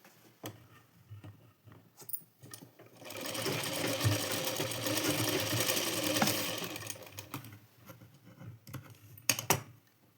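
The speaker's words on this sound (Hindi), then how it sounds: "अब इसे उल्टा करके सिलाई लगा लेंगे दोनों साइड से" A sewing machine stitches blouse seams, starting with scattered taps and clicks, then running in a steady, close whirring burst for several seconds before stopping, followed by more handling clicks. No one speaks.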